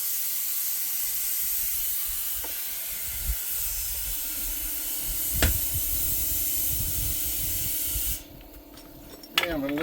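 Compressed air from a 40-gallon shop compressor hisses steadily while inflating a hand-mounted tire, a continuous broadband rush that stops abruptly near the end, with a few brief clanks and a squeak.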